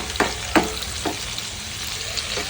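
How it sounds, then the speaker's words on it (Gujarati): Onions fry in hot oil in a pan, making a steady sizzle with a few brief stirring scrapes on top. "તો એ જ તેલમાં આપણે ડુંગળી બી નાખી દઈશું અને ડુંગળીને પણ એવી રીતે થોડી ક્રિસ્પી થાય એવી રીતે શેકી લઈશું."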